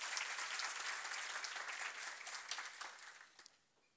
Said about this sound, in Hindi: तो इनके माता पिता के लिए भी जोरदार तालियां।